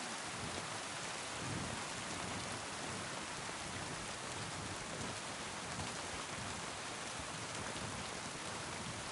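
Steady, heavy rain in a medieval video game pours continuously with a dense hiss, and a low rumble of thunder rolls underneath.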